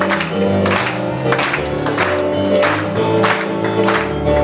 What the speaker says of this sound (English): Start off, clapping your hands, come on.